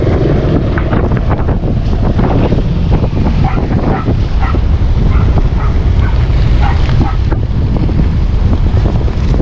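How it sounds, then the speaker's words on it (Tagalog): Strong wind roars and buffets the microphone continuously, a loud steady rumble with a faint watery wash beneath it. "Taas ang hangin."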